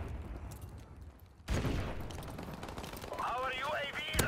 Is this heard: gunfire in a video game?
yes